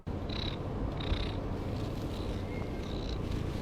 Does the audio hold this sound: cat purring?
yes